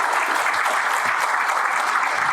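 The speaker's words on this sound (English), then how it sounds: "a round of applause for the panelists" An audience gives the panelists at a campus event a round of applause, steady dense clapping from a crowd filling the whole moment without talk.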